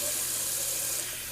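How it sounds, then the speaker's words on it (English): Water runs from a tap for a cold face rinse after shaving, a close, loud, continuous splashing rush. "I'm going to do a quick cold water rinse on the face"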